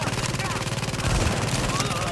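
An automatic turret in a third-person shooter game fires rapid, rattling bursts amid battle noise, with excited voices talking over it.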